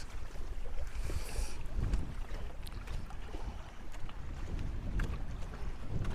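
Strong wind buffets the microphone in a steady, rough roar at a feeder fishing competition, with faint water sounds beneath and no voices.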